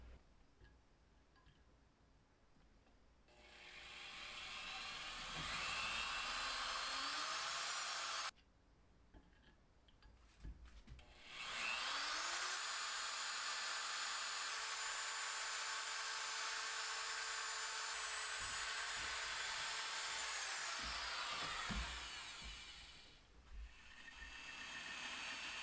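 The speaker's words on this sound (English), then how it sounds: "we're just drilling the holes. We'll start with a pilot hole and then transition to the final size of the bolt hole" A power drill bores pilot and bolt holes for a custom DR650 motorcycle mount. The motor whines in two long runs, a shorter one and then a sustained one, with quiet pauses between.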